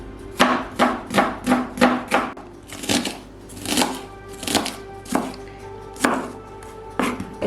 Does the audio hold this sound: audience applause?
no